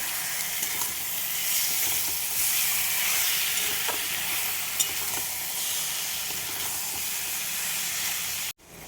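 Spiced fish hitting hot oil in a pan: a loud, continuous close sizzle and hiss that holds steady for several seconds, then cuts off abruptly near the end.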